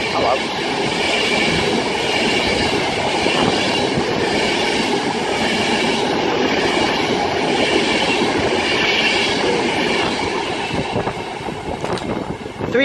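Alstom Pendolino electric train in Pendolino livery passing on the Chat Moss line at Huyton, a loud, steady broadband rush with rail clatter filling the whole span, easing slightly near the end.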